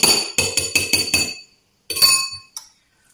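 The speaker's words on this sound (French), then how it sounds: "je vais prendre une petite cuillère et je vais venir juste hop, mélanger le bicarbonate et la maïzena à l'intérieur" A small spoon clinks against a bowl while stirring baking soda and cornstarch for a quatre-quarts cake batter, giving five quick, regular taps followed by a pause and a short scraping clink, then one faint final tap.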